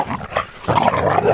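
A dog growls while being ordered to attack, giving a rough, throaty snarl that swells and continues for over a second, close and loud.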